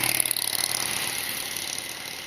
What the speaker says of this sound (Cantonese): 而家後面嗰班咧就係一架電單車車隊啦